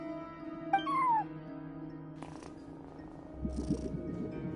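A cat purrs softly and continuously in the video game Genshin Impact, a low quiet rumble under light game sounds, with a short meow-like chirp near the start.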